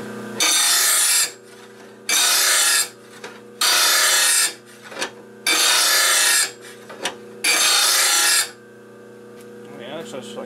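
A grinder sharpens a mower blade and throws sparks in five separate harsh grinding passes. Each pass lasts about a second and a half, and a low motor hum fills the short pauses between them.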